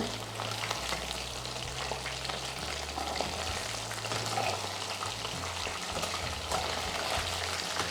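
Boneless chicken 65 fries in a pan, giving off a continuous, even sizzle and crackle of hot oil at close range with no talk.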